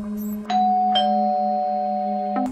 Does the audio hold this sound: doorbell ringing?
yes